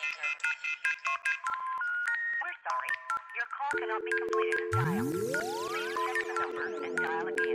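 Phone ringtone woven into a hip-hop music track: bright, chiming electronic tones repeat in a rhythmic pattern, then a rising sweep and a steady low tone join under layered melodic sounds.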